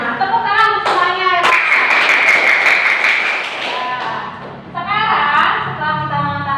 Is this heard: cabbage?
no